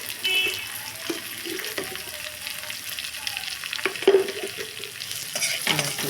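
Malabar spinach curry with turmeric and salt is stirred in a pan, soft steady sizzling under scattered scrapes and clinks of the spoon against the metal, close and moderately quiet.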